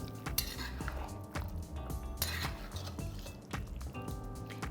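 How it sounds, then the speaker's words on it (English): A spoon stirs lemon juice into a pan of spicy green-chilli mutton gravy, making repeated close metallic clinks and scrapes against the pan over a steady tonal background. "Now let's shut the flame and then add juice of 1 lemon. And I'm going to mix this well."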